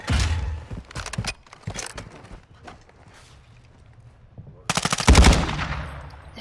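In Call of Duty: Modern Warfare II, an automatic weapon fires rapid, loud bursts of gunfire. A short volley opens the sequence and a longer, heavier one follows after a quieter gap of scattered shots.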